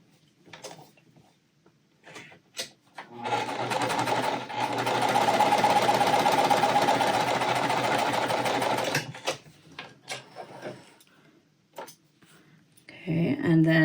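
A sewing machine stitches quilt fabric pieces together in one steady, close whirring run of several seconds, bracketed by quieter handling clicks and rustles before and after, with a voice talking briefly near the end.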